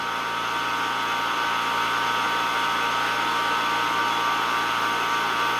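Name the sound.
electrical arc discharge in xenon gas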